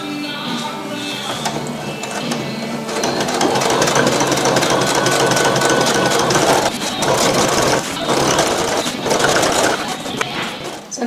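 A sewing machine stitches fabric for ice house wheel skirts at a dining room table, a steady close mechanical whir that runs the whole time with a few brief pauses and changes of pace.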